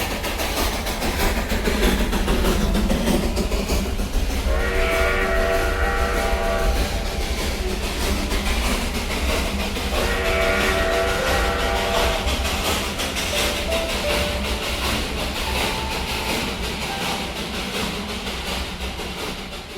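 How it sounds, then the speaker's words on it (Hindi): A Darjeeling Himalayan Railway steam train with an old steam engine rolls past, a loud, steady rumble and clatter carrying two long whistle blasts, with no voices. "यहीं से गुजरती है विश्व प्रसिद्ध दार्जिलिंग हिमालय रेलवे"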